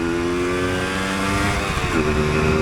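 A 1988 Yamaha DT200 two-stroke motorcycle being ridden off road, its engine droning steadily with a rising, buzzing pitch that shifts as the rider changes throttle, loud and close under wind noise.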